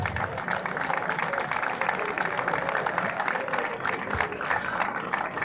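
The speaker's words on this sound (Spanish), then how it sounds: "al que pido un aplauso también para Iberdrola" An audience claps for the power company Iberdrola at the San Felipe fair in Barruecopardo, a dense and steady round of applause from a crowd that lasts throughout.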